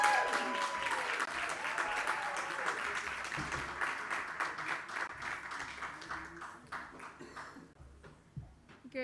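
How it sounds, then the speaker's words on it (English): Conference audience applauding as speakers are welcomed onto the stage, a full burst of clapping that thins out and fades toward the end. "please welcome them up to the stage with a huge round of applause"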